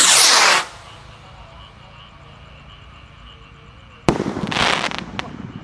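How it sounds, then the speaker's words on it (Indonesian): A Pluto firework rocket launched on a festive Eid eve night gives a loud hissing burst at the start, then a long quiet stretch, then more loud crackling bursts of fireworks near the end. "Langsung saja kita nyalakan roket Pluto spesial malam takbiran 2026"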